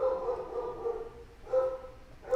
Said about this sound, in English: my dog's barking like crazy outside